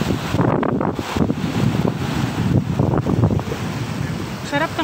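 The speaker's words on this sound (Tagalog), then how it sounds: "Yung sound ng wave." Waves wash onto a seashore in a breezy setting, a continuous rushing surf with gusts of wind noise, and a few faint voices murmur beneath it.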